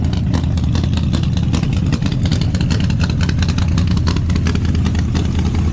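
A 1974 Plymouth Scamp big block V8 fitted with an exhaust and an old 750 vacuum secondary carburetor runs steadily, its loud, throaty rumble held close and continuous throughout.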